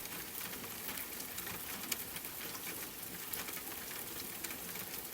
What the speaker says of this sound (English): Rain moved over the roof